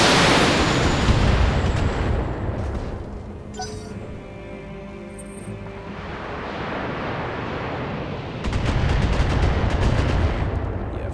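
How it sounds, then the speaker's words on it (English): Heavy weapon fire from a mech in the BattleTech video game, a loud broadband blast and rumble that holds for several seconds, trailing into a quieter tonal stretch before a second heavy burst near the end. "Taking the shot."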